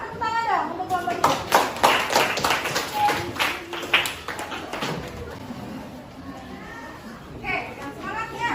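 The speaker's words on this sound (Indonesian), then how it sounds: "tepuk tangan dong untuk kelompok 3" Classroom children clap for a student group about to present: a burst of rapid, uneven hand claps over lively kids' chatter, fading into talking voices and a later short round of claps.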